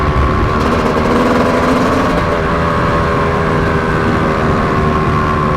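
A 2025 Yamaha YZ250X two-stroke dirt bike running easy in third gear during break-in, a loud close buzzing engine drone with steady pitch and faint gear whine, no talking.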